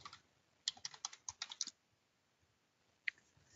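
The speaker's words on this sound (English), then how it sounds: "Type the username." A username is typed on a computer keyboard, a quick run of about ten close, crisp key clicks followed by one more isolated tap after a pause, all quiet and without speech.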